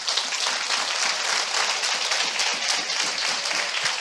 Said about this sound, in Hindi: मैं चाहता हूं हम सब मिलके यीशु के लिए जोरदार ताली बजाएं।